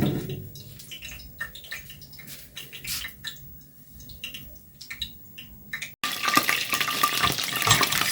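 Ice cream deep-frying in a pot of oil on a stove, with soft crackles and stirring at first, then a sudden loud, steady sizzling hiss for the last couple of seconds, close by.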